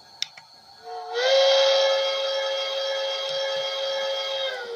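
A long, steady steam whistle from a Bachmann model train's DCC sound blows for several seconds after a couple of faint clicks, loud and sustained with a slight hiss in its tone.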